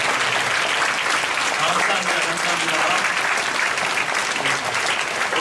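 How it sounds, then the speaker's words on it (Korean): A church congregation at a Friday night worship service bursts into steady, dense applause for the young people, sustained throughout, with a brief spoken thank-you over it. "우리 청년들에게 한번 큰 격려 박수 부탁드리겠습니다."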